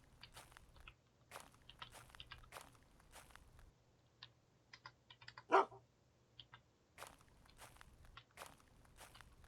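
A dog barks once, short and sharp, in the survival video game UnReal World, heard quietly among soft game footsteps and keyboard clicks.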